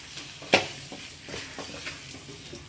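A spoon scrapes and stirs masala and vegetables in a pan, with a sharp clink near the start and soft sizzling underneath.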